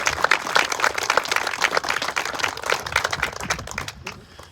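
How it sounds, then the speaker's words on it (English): A crowd gives a dense, steady round of applause at a ribbon cutting for an accessible kayak launch in a heritage park, with clapping that continues for about four seconds and then tapers off quickly. "let's give everybody a big round of applause"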